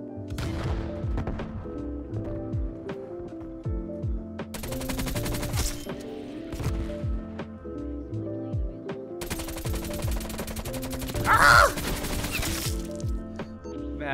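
Bursts of automatic gunfire from Black Ops Cold War on the Slums map, with sharp rapid volleys separated by quieter gaps, close and fairly loud, with a little talk.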